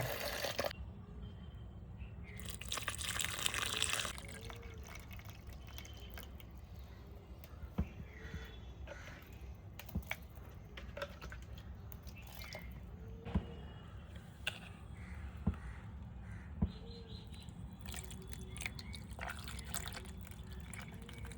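Water pours briefly in a rushing burst onto a repotted plant, followed by a long stretch of scattered drips and faint trickling against a low steady hum.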